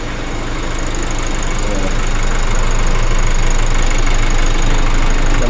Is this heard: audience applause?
no